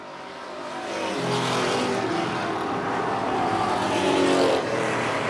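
Race cars roar around the track into turn one during the Super Street 100, a loud, continuous engine drone that swells as several cars pass close together.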